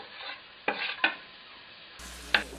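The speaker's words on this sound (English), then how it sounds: "You know, the smaller you chop the garlic, the stronger the flavor. Get this sauteing here." Finely chopped garlic sautés in a pan with a soft, steady sizzle. A few sharp spoon scrapes and taps against the pan stand out, and no one speaks.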